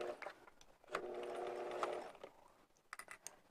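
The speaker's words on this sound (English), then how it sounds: "And I'm just sewing to this outer curve." A sewing machine runs in a steady continuous burst of stitching around the outer curve of a Japanese knot bag, with brief clicks and handling noises before and after, close and moderately quiet.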